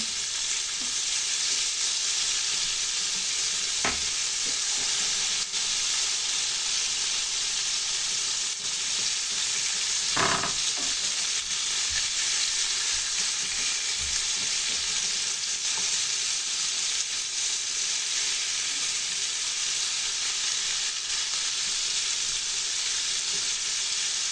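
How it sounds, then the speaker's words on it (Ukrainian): Cutlets made from ground meat fry in a pan, browning on both sides after being flipped; a steady, moderately loud sizzle runs continuously, with a couple of brief clatters partway through. "Даємо їм обсмажитися з обох сторін"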